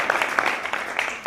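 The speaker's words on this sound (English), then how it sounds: "Applause." Scattered, brief clapping from a lecture audience: a handful of distinct hand claps spread unevenly across a second or so, moderately loud with no voices.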